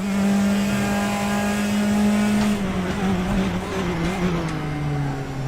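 Praga R1 race car at Chang in the RaceRoom racing game, its engine holding a loud, steady high drone that wavers and drops in pitch toward the end as the car lifts or shifts, close and continuous with no talk.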